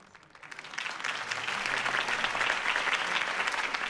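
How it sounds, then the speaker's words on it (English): Crowd applause after a campaign speech in a Batman video game, a dense wash of clapping that rises quickly and holds steady and loud throughout, with no voices over it. "If only Mr. Wayne, my campaign's largest backer, could have heard that applause"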